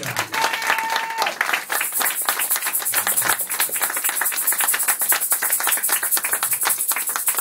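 An evangelical church congregation at a Sunday service breaks into sustained, dense applause. The clapping is loud and even, with a brief voice at the start and crowd murmurs underneath.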